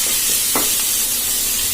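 Carrot, onion, beans and tomato sautéing together in a pan for a veg sandwich filling, a loud steady hiss and sizzle close by with one brief scrape of stirring.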